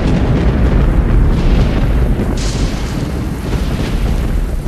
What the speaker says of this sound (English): Thunder and lightning combine with cannon fire from the Union gunboats to create a night no soldier at Shiloh will soon forget.